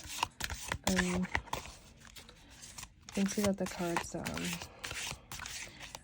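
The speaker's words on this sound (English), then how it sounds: "Let me see if I could shuffle without knocking it" A deck of Yule-themed oracle cards is shuffled by hand close up, giving short papery riffling bursts that come and go while a person talks over them.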